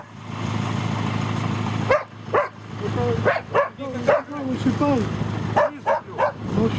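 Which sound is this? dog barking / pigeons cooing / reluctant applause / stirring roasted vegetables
dog barking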